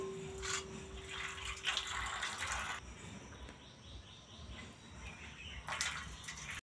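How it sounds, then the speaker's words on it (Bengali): Boiled taro stems drain in a perforated colander, giving a soft, continuous watery hiss and trickle, close by, that eases briefly before swelling again near the end, with no voices. "কচুর লতিটা এইভাবে একটা ছিদ্রযুক্ত পাত্র কিন্তু নামিয়ে নেওয়া লাগবে, যাতে জলটা ভালো করে ঝরে যায়।"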